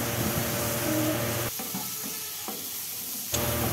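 Sliced pointed gourd tossed with salt and turmeric in a frying pan sizzles steadily, with scraping stirring strokes that grow sparser and quieter halfway through, then a brief clink at the end.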